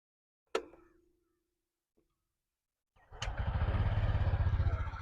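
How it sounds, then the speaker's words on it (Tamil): A 2023 TVS Jupiter 125 scooter, disc variant: a sharp click and brief ring come first, a quiet pause follows, then the engine catches and settles into a steady, close, pulsing idle. "வண்டியை ஸ்டார்ட் பண்ணி இன்ஜின் சவுண்ட் எப்படி இருக்குது அப்படின்னு பார்ப்போம்."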